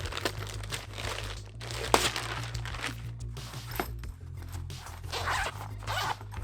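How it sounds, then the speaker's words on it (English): A zipper is pulled open on the carrying case of an FQQ 15.4-inch triple portable monitor, with close, continuous rasping teeth and soft fabric crinkling over about six seconds and no talking. "It will zip open and you can put the monitor kit right in there."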